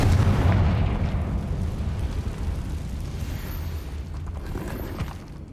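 A Confringo blasting spell in the Hogwarts Legacy video game, a loud rumbling explosion that starts with a heavy low boom and trails off into a fading roar over several seconds.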